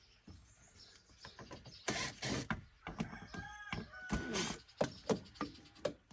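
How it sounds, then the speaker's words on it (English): Four black screws are backed out of a panel on a 2018-2022 Polaris Ranger XP 1000 side-by-side, giving bursts of close ratcheting clicks and mechanical clatter with no talk. "Now we're gonna take the 4 black screws out and just lay this back."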